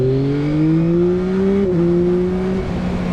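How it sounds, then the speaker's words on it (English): A 2022 Yamaha MT-09 triple motorcycle engine revs steadily and loudly up close, its pitch rising smoothly, briefly dipping at a gear change, then holding a strong, sustained drone. "Listen to that engine!"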